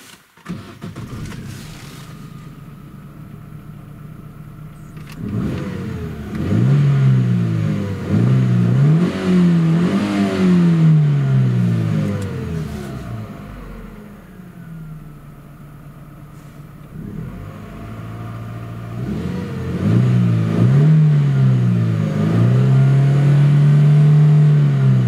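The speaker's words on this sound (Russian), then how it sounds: "Этот вот звук до замены катализатора на проставку." A Chevrolet Aveo's engine and exhaust running with the original catalytic converter still fitted, idling close by, then revved twice in long rising and falling swells, loud and alone with no voices.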